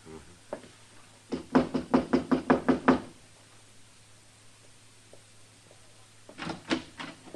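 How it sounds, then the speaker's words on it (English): Knocking on a door as a radio drama sound effect on a Western: a quick run of about eight sharp knocks, then a shorter burst of raps a few seconds later, close and clear over a faint hum. "Knock."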